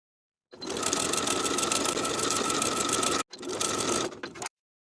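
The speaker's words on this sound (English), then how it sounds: "we're going to sew around the circle with a 3/8 inch seam allowance" A sewing machine stitches around the waistband of pajama pants with a 3/8 inch seam allowance, a loud, fast, even whirr that runs for about three seconds, stops briefly, then resumes for another second.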